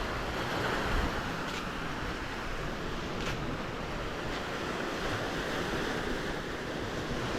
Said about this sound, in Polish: dość duże fale dzisiaj są